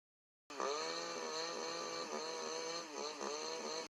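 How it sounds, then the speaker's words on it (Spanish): A chainsaw starts abruptly and runs at a loud, steady, buzzing pitch with slight dips in revs, then cuts off sharply, used as a horror-story sound effect. "escuché el ruido de una motosierra encendiéndose"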